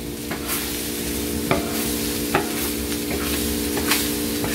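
Green and colored bell peppers sizzle on a discada with onion, a loud continuous frying hiss broken by several spatula scrapes as they are stirred, close and without voices.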